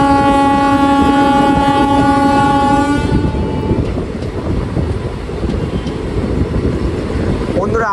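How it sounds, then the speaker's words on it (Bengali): A train running straight through Mecheda station without halting sounds a loud, sustained horn blast for about three seconds, then a heavy, continuous rumble and clatter of the carriages rolling past at speed. "আমাদের ট্রেন এখন ঢুকে গেল মেচেদা স্টেশনে, আর এখানে হল্ট নেই, আমাদের ট্রেন স্কিপ করে বেরিয়ে যাবে মেচেদা স্টেশন"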